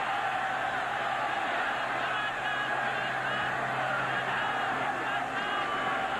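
Stadium crowd at a 1996 Tennessee versus Georgia college football game cheering in a dense, continuous roar that stays steady throughout, with a broadcast commentator's voice faintly underneath.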